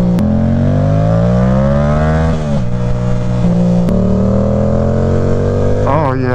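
A Yamaha R7 motorcycle engine winds up in a smooth, rising whine, briefly dipping at a quick gear change before climbing again, loud and close with wind rush around it.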